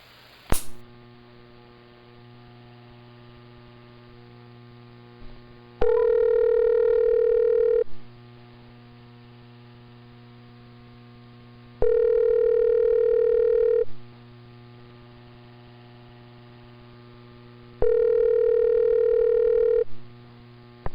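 A steady electrical hum runs throughout, broken by three evenly spaced bursts of a loud telephone tone, each lasting about two seconds, with a click near the start.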